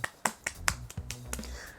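A few sharp, separate claps ring out in an irregular rhythm close up, a single person clapping alone with no talk over it.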